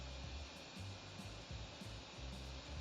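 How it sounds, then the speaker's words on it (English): Air purifier running in a room, a steady close whooshing fan noise with faint low rumbles pulsing underneath, no voices. "now that I have the air purifier running"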